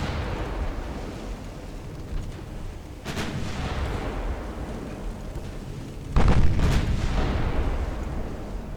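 Heavy warship gun batteries firing in the naval combat game Ultimate Admiral Dreadnoughts, with two loud booming salvos, the second closer and heavier, set against a steady rumbling background.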